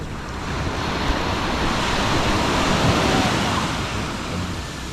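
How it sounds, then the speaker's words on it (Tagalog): Loud, continuous rush of surf with a heavy wash of crashing waves and wind buffeting the microphone, no voices. "Ang lakas ng alon."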